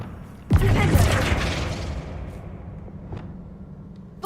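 Flipendo spell cast in the Hogwarts Legacy video game: one sudden booming burst at the start, then a long rumbling tail with faint crackles that slowly fades, close and loud.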